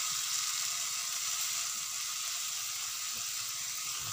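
Khesari greens are sautéed slowly in a pan with ginger tempering, giving a faint, even hiss of moisture frying with light clicks of stirring throughout.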